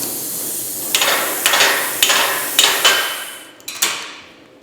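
A Bestarc BTC500 plasma cutter tapped against metal, five or six sharp metallic knocks at a steady pace with a hissing ring after each, close and loud.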